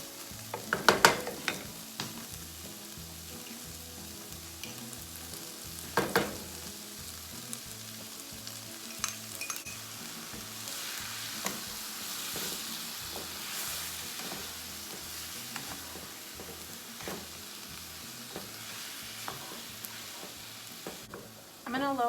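Meatballs and vegetables sizzle steadily in a pan, with a low, continuous frying hiss and a few louder clatters from stirring near the start, close and without talk.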